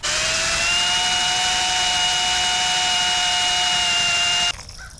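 A power drill whines at high, steady speed as it bores into aluminum, a loud continuous tone lasting about four and a half seconds before cutting off abruptly, leaving faint background noise.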